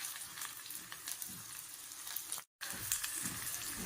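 Mustard seeds, small shallots and a piece of asafoetida crackle in hot oil in a small tempering ladle, a steady close sizzle with faint popping that cuts out for a moment before resuming.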